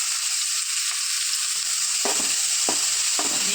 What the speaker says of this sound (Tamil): பொடுசாக கட் பண்ண வெங்காயம் ஒரு ரெண்டு கை போட்டுருவோம்